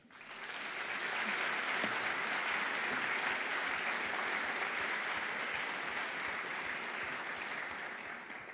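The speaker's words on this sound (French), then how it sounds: "je voudrais qu'on les applaudisse." An audience at a kidney foundation gathering gives sustained, warm applause, many hands clapping in a dense, even roar that swells quickly, holds for several seconds and begins to taper at the end, heard from within the hall.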